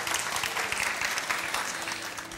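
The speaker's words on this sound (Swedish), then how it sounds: "Nu jublar de lite." A studio audience at a televised bingo lottery show applauding and cheering, a dense steady wash of clapping heard at moderate distance, with no clear voices over it.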